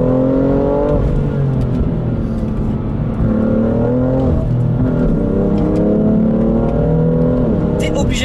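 A BMW M3 Competition engine revs loud and close, a steady deep drone rising and falling in pitch over several seconds, with someone talking over it throughout.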